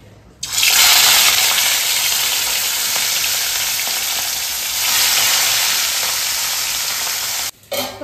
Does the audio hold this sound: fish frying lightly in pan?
yes